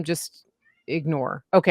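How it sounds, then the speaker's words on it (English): A pet cat meows in the background, a few short meows between people speaking nearby. "That's our cat, my cat. If you hear him,"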